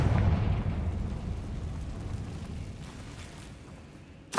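Blast from the Confringo fire spell in Hogwarts Legacy, a loud deep booming rumble that decays over several seconds, with a sharp new burst right at the end.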